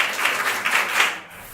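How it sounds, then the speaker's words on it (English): A group claps a short rhythm back in unison, about four distinct clustered clap pulses close together before fading into quiet. "Would you clap that back with me?"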